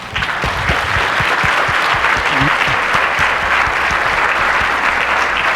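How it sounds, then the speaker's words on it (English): Audience at a college's State of the College address applauding steadily, a dense continuous patter of many hands clapping at even loudness throughout, with no voices standing out. "please join me in applauding all of them"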